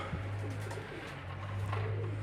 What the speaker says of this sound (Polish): Są dwa gołębie, jedno, obydwa z kolorowych.